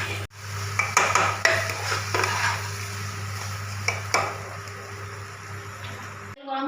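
A spoon knocks and scrapes inside a cooking pot while salt and other ingredients are stirred together, with irregular clinks over a steady low hum before the sound cuts off.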